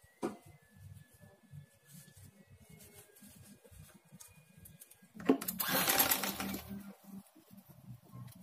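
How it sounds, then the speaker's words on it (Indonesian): A sewing machine stitches a dress skirt seam, with soft handling and rustling first, then a quick burst of rapid mechanical needle chatter lasting about two seconds before it stops. "Ini kita jahit lagi."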